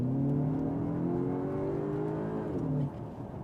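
A Cupra Terramar SUV in VZ2 trim accelerates with its augmented synthetic engine note, a steady rising tonal hum that climbs in pitch for a few seconds before easing off, heard from inside the cabin without talk.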